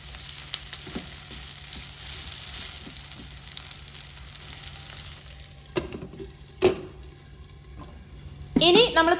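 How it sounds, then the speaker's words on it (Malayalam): Chicken fries with little oil in a covered non-stick pan, giving a steady, low, continuous sizzle, broken by a couple of sharp utensil clanks near the end before a voice starts speaking. "വീണ്ടും മൂടി വെച്ചിട്ട് ഞാനിത് ഒന്നുകൂടെ ഇങ്ങനെ ഫ്രൈ ആക്കി എടുക്കുകയാണ്"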